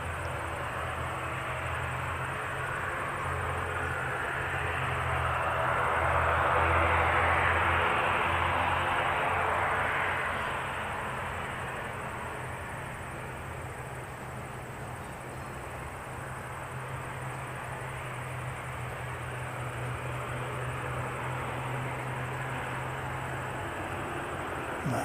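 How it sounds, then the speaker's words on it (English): An Air New Zealand ATR 72-600 turboprop arriving from Wellington drones steadily, its propeller hum rising to a peak early on, then easing into a sustained, moderately distant whir with no talking. "here's 335 coming in from Wellington, ATR 72-600"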